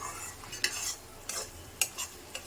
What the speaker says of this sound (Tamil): கைவிடாமல் ஒரு 10 நிமிஷம் நல்லா கைவிடாமல் வறுத்துட்டே இருங்க